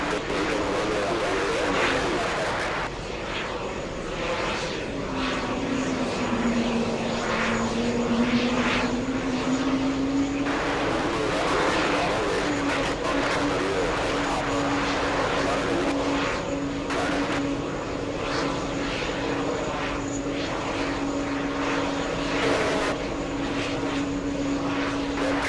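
A large jet airliner taking off from a busy runway, a loud continuous engine roar with a rising whine that holds steady throughout, heard from a distance with faint voices underneath.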